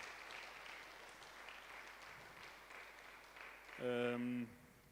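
A church congregation breaks into applause, a dense wash of clapping that runs steadily under a preacher's voice, followed by a short swell of organ or keyboard chord near the end.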